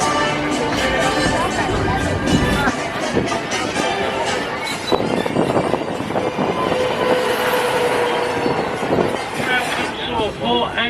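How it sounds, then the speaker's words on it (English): A tram in Orange County, California rolls along with a steady rumble and clatter of wheels on rails, a faint squeal at times, while an onboard announcement voice talks over it. "the tram comes to a full and complete stop"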